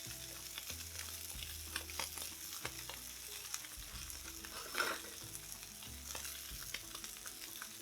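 Small cut pieces of Spam frying in a small pan, a steady close sizzle with occasional stirring scrapes and light crackles, no voices.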